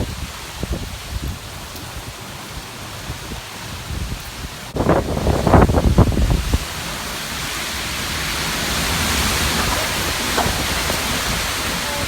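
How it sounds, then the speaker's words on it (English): Strong hurricane wind gusts in Jacksonville, Florida roar past, a broad rushing noise that surges in a burst of buffeting against the microphone, then settles into a steady, heavy blowing. "The winds are extremely strong at times with big gusts"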